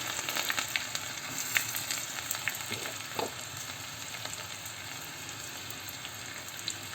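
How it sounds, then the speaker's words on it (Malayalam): Mustard seeds, onion and curry leaves fry in hot oil, giving a soft, constant sizzle dotted with small crackles and pops, heard alone at close range. "എണ്ണ ചൂടായി കഴിയുമ്പോൾ നമ്മൾ കടുക് ഇടുക. അതിനുശേഷം നമ്മുടെ ഉള്ളിയും കരിയാപ്പിലയും കൂടെ ഇടുക."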